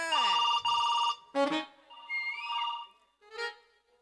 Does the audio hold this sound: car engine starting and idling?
no